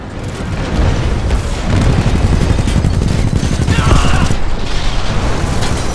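Sustained gunfire and heavy mechanical booms from the Titanfall 2 video game, a loud dense barrage of rapid shots and impacts that runs continuously through the battle, with a brief swell partway in.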